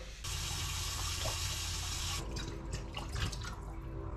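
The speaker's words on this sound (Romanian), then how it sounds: "Îi punem apă." Water pours steadily into a pot of pilaf in a home kitchen, a bright continuous splashing stream that stops partway through, leaving faint drips and clinks.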